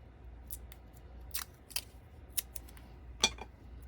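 Scissors snip through paper to cut out a small book plate shape for a craft tag, a handful of quiet, close, crisp cuts spaced irregularly over a low background hum.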